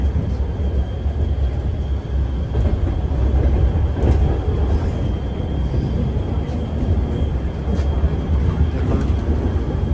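A Moscow local commuter train runs outside the city, its steady loud rumble and wheel noise filling the whole stretch with occasional clacks, no voices.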